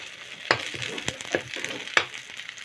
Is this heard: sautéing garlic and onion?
yes